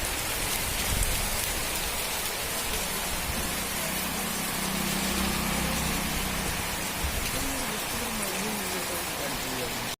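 Heavy monsoon rain pours steadily onto surfaces, a dense continuous hiss of drops close around, with low rumbling murmurs of voices or traffic mixed beneath for a stretch.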